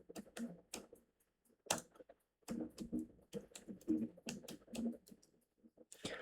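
Python code is typed on a computer keyboard as irregular bursts of close, crisp key clicks separated by short pauses.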